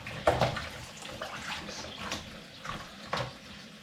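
A cross-stitch piece being rinsed by hand in a tub of water, with soft continuous sloshing and a few brief splashy swishes close by.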